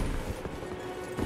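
Horse hooves clip-clop in a quick rhythmic gallop while riding in the video game Elden Ring, steady and fairly loud, with no talking over it.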